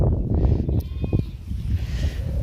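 A goat on a farm field bleats several times in short wavering cries, close and clear over a rough outdoor background, with a voice speaking briefly nearby.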